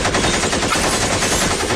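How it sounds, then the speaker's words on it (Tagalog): A Tech 9 pistol fires full auto in a rapid, unbroken burst of loud, dense shots that runs without pause across the whole stretch. "Yung Tech 9. Talagang full auto."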